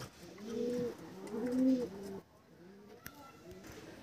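Desi pigeons coo in a loft, with low, throaty rolling calls close by in two clear phrases, then quieter rustling and a sharp knock.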